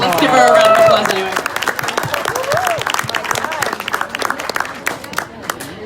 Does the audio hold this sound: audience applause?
yes